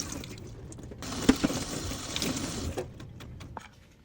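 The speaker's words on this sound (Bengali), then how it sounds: "মাছটা ভালো করে ধুয়ে নিব।" Raw prawns being rinsed in water, a brief burst of running, splashing water with small handling knocks, close and moderately loud, then quieting near the end.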